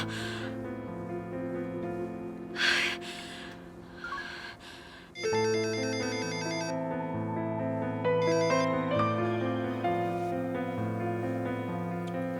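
A phone rings with a melodic electronic ringtone in a Korean TV drama scene, steady and fairly loud after a few seconds of quieter sounds and breaths, with the tune repeating continuously.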